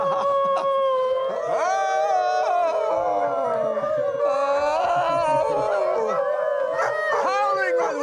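Sustained howls with gliding, wavering pitch overlap and rise and fall continuously over eight seconds, loud and close, in the manner of a person or people imitating a howling animal.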